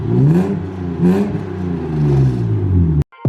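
A 25-year-old barn-find BMW E36 325i inline-six revs loudly and steadily close by, its engine note rising and falling over about three seconds before cutting off abruptly.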